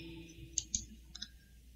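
A computer mouse clicking an on-screen agree button, a few crisp, quiet clicks in two close pairs.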